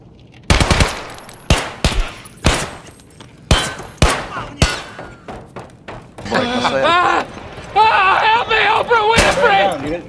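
Gunfire in the video game Escape from Tarkov rings out as loud, close single shots and short bursts, followed by a stretch of overlapping talk from players over the game audio.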